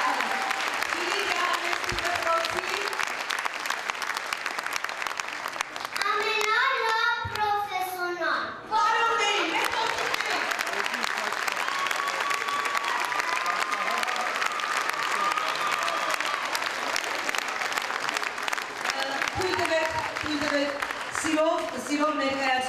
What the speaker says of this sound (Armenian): ես ձեզանից խնդրում եմ բարձր ծափարեք